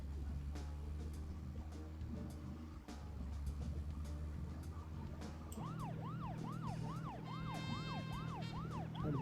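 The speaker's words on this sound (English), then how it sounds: "Just listen to my siren." A car siren wailing in the video game Deadly Premonition, rising and falling in a rapid regular cycle over a low engine hum and background game music.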